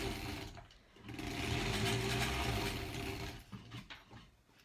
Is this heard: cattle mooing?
no